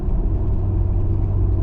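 A truck rolls along an ice-covered interstate in wind, its steady low engine rumble and road drone filling the cab at constant loudness with no talk.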